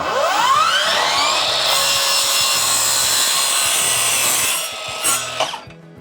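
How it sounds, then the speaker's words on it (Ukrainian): A Procraft cordless miter saw cuts a wooden board tilted to its maximum bevel angle. The loud, steady whine and sawing run for about five seconds, then the blade winds down to a stop. "Закріплюємо нашу дошку, нахиляємо ще й так на максимальний кут, закріплюємо та відпилюємо."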